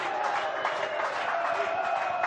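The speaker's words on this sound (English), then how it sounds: "fans cheering on their heroes who've got the job done today" Swinton Lions rugby league fans on a terrace after a play-off match keep up a dense, continuous roar of crowd noise mixed with clapping and cheering. Sustained whistle-like tones run through it at a distance.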